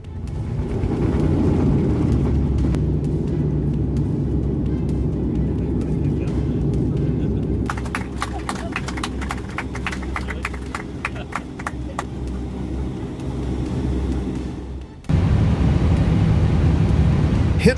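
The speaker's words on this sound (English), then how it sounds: "an airplane's tire burst on landing, nearly turning into disaster" A continuous airliner roar rumbles close by during landing, then a tire bursts with rapid crackling impacts and scraping before the heavy roar returns abruptly.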